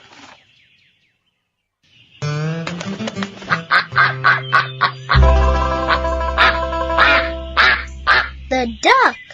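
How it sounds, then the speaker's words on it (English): A duck quacks in a loud, rapid series of harsh calls up close, with overlapping honking quacks that continue almost without pause after a brief silence. "The duck."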